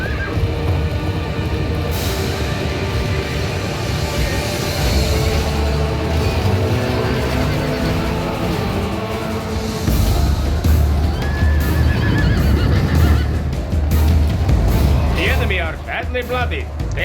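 Hungarian noble cavalry horses neigh and whinny amid a video game battle, several loud whinnies over dense clashing combat noise, with a voice talking throughout.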